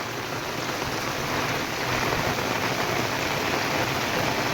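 Steady rain pouring down outdoors, a dense, even hiss that stays loud and constant throughout without a break, with no voices.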